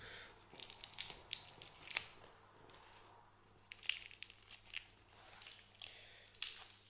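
Plastic packaging is being tugged and torn off an AEW Unrivaled Series 4 Cody Rhodes action figure, giving close, crackly tearing and crinkling bursts in irregular spurts with brief pauses.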